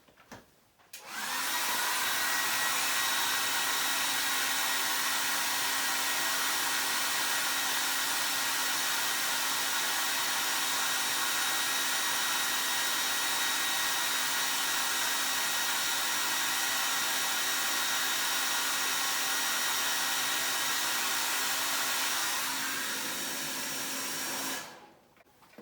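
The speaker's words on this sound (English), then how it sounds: "I'll put it on high heat, and I'll heat it up" A hairdryer on high heat blows continuously at full power for over twenty seconds, a loud, even whooshing hum that switches on and off abruptly.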